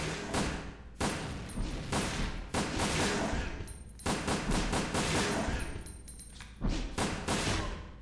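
Repeated gunfire in Resident Evil: Dead Aim, loud rapid bursts of shots firing in clusters across the whole stretch, with heavy thumps mixed in as an exploding canister is targeted.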